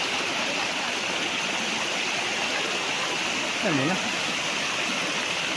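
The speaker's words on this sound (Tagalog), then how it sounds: "Ito ang bukal mga kaprops." A natural spring on a farm lot in Lucban, Quezon flows with a steady broadband rush of clear running water, continuous throughout, with a brief voice speaking near the end.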